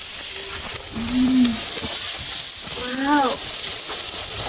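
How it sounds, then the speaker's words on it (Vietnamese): Grilled BBQ meat stir-fried in a pan gives a continuous bright hiss and sizzle, loud and close, while a voice speaks short exclamations over it. "Xào thịt nướng."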